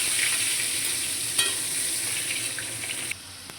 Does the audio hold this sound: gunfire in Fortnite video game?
no